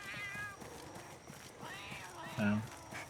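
A small cat creature in Monster Hunter gives a few short meows during play. They are mixed with hoof-like clopping game sounds and players talking.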